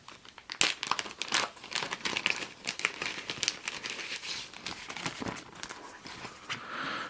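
Plastic and cardboard packaging of a Hatfields & McCoys board game box being torn and crinkled open up close, a continuous busy run of sharp crackles and rustles with no talking.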